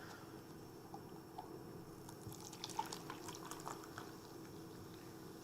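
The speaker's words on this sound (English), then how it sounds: "Hang on, I gotta pour a glass of fizzy. I say glass, but I mean a plastic cup." Fizzy drink poured into a plastic cup gives a faint, steady fizz with scattered light drips and pops over a low background hum; nobody speaks.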